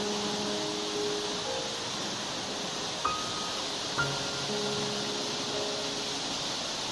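Steady, broad rushing roar of the Bakacak waterfall in Düzce fills the air evenly, with two faint brief clicks over it and no talk.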